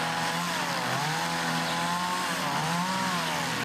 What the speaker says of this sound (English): volunteers showing up, breaking out chainsaws,